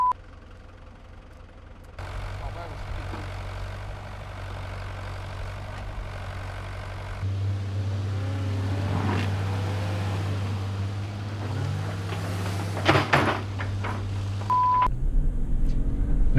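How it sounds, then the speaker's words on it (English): A four-cylinder engine in a 2021 Jeep Wrangler 4xe Rubicon runs steadily in hybrid mode with 4x4 low engaged, a low continuous drone that grows louder partway through, with some faint mechanical clatter near the end and no talking. "it's interesting when you're in 4x4 low and the 4xe, especially in hybrid mode, is you're hearing the 4-cylinder engine running."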